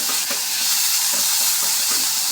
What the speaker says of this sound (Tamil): நம்ம வெங்காயம் தக்காளி அரிஞ்சு வச்சுருந்தோம் இல்லைங்களா அதை ஆட் பண்ணிக்கலாம் கொஞ்சம் நல்லா வதங்கணும்